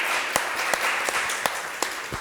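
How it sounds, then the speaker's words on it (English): Applause from an audience at a talk about the future of the city, a steady wash of clapping with a few sharper individual claps standing out, fairly distant and moderate in level. "Give a round of applause."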